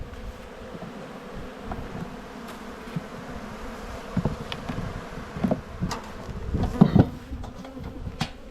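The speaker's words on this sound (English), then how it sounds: "So pretty quiet bees." Honey bees buzz around an open backyard hive during spring buildup in Australia, a soft, continuous droning hum with scattered closer wingbeats and a few brief louder passes near the microphone toward the end.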